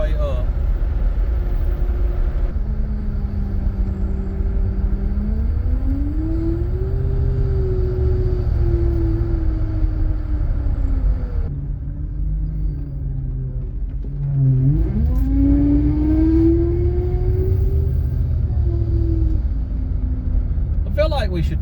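An old Ford Fairmont wagon rolls along with a constant low road rumble and engine drone. The engine pitch rises and falls through light acceleration, and someone talks over it at close range.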